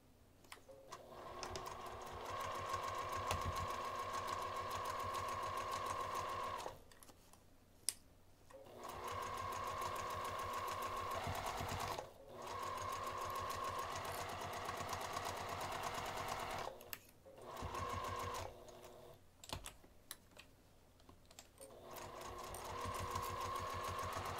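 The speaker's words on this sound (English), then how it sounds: "we're going to sew this using a quarter of an inch seam allowance" A sewing machine stitches a quarter-inch seam on a craft bag, humming steadily in long close runs that stop for brief pauses and then start again, with no talking.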